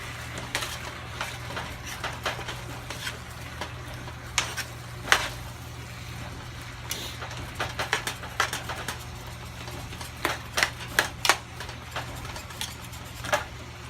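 Onions being stirred in a pan for shepherd's pie, a series of light scraping and clinking utensil hits over a steady low sizzle and hum, irregular and moderately near, with no talking.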